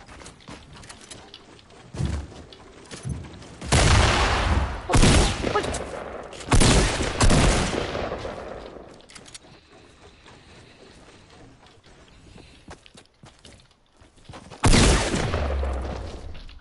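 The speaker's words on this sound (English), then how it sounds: "Fortnite guns, help me" Fortnite guns fire in bursts, loud cracking volleys and rapid shots separated by quieter stretches, with a final heavy burst near the end.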